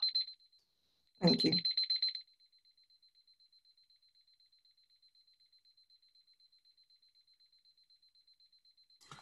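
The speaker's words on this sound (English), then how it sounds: "I had an alarm going off and you probably could hear a little bit of that." A beeping alarm sounds in a quiet room: a steady high-pitched electronic beep repeats in a fast, even pulse for several seconds and stops briefly. A short burst of speech cuts across the beeping.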